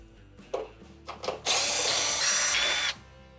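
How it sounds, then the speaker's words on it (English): A power drill backs quarter-inch screws out of the bottom panel of a Frigidaire stove: two short whirring bursts, then a steady, loud, close run of about a second and a half. "So I'm gonna begin by removing this bottom one here and then probably going in a counterclockwise motion."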